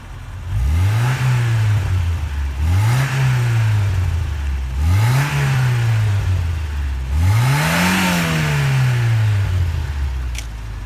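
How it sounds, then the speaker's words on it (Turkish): A used car's engine revs up four times in a row, each rising roar peaking and falling back to idle, loud and close with no talking. "Şimdi aracımıza bir gaz verelim."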